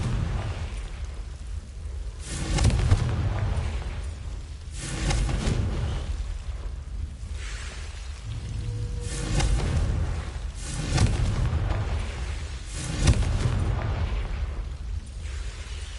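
Confringo blasting spells in Hogwarts Legacy go off as a series of loud, booming fiery explosions roughly every two seconds, each with a rumbling low-end burst and crackling tail over ongoing game noise.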